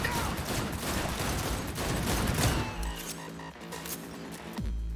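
Rapid bursts of gunfire in the video game Cyberpunk 2077 rattle loudly and densely, close and sustained for several seconds before tapering into scattered shots and metallic clinks.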